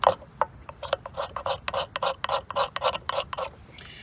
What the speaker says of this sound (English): You take your magnesium, you scrape it down, get yourself a little pile.